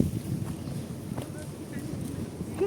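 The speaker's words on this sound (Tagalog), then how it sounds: "Super windy today." Strong wind buffets the microphone outdoors under palm trees, a steady low rumbling roar with gusty swells that continues throughout, with faint voices in the background.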